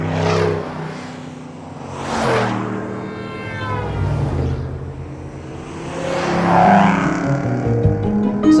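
Car engine revving as an added sound effect, rising and falling roars in several swelling surges with whooshing pitch sweeps, loud and close with no talk.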